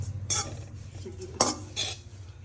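Coconut is roasted in a kadai, heard as a few close scrapes and clinks of a spatula against the pan that come in short bursts over a low background hum.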